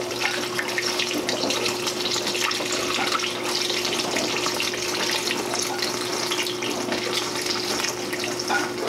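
Honey water for mead pours steadily through a funnel into a container, a continuous close splashing trickle with a faint hum underneath.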